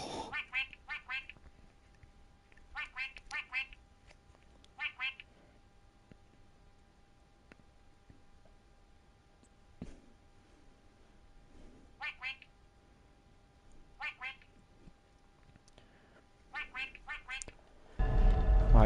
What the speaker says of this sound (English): Why does it quack?